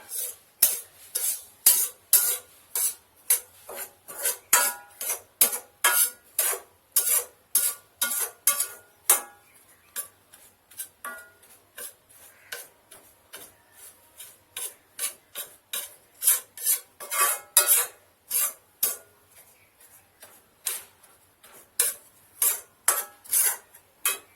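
Halwa roasting in a pan while a metal spoon scrapes and stirs in a steady, brisk rhythm of rasping strokes, close and fairly loud, with no voices.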